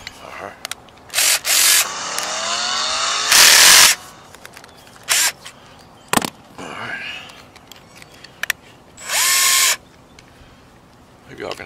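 A DeWalt drill whirs in several short, loud bursts while solar panels are mounted on a roof, separated by handling noises and someone talking.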